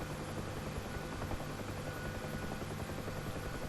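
A Huey helicopter lifts off in the flight sim DCS World: a steady, loud rotor and turbine drone fills the whole clip, broadband and unbroken, with no voices.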